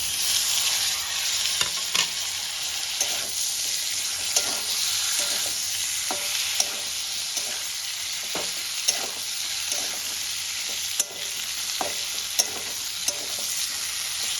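Chopped tomatoes fry in a pan for a katla fish head dish and are stirred repeatedly. A loud, continuous sizzle is punctuated by regular scrapes and taps of the spoon against the pan, with no talking.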